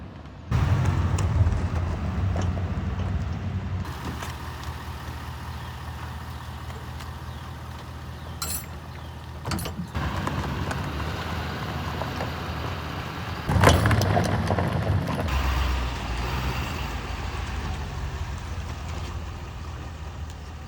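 A vehicle drives steadily while towing an RV transfer tank on a trailer hitch, producing a constant loud engine and road rumble with a few brief bumps and rattles along the way.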